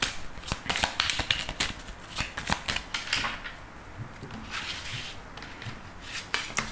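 Tarot cards are drawn and laid out one by one, crisp slaps and shuffling flicks in an irregular rhythm, close and alone with no talking.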